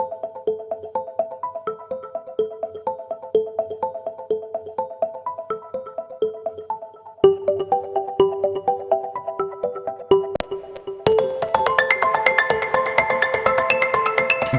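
Heavyocity Avant Modern Keys rhythmic melodic preset: a pulsing, repeating keyboard pattern that builds in layers, adding denser, brighter arpeggiated notes toward the end, played alone without speech.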